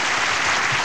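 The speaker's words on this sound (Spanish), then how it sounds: "un aplauso para Cachupín" Under a second of dense audience applause for the jockey Cachupín after a horse race on a television program, steady and close.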